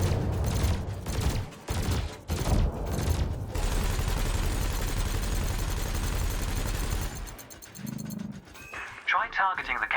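Ship weapons firing in Elite Dangerous on Xbox Series S, a sustained stream of rapid cannon and laser shots with short gaps early on, ending in a different electronic chirping sound, with someone talking over it.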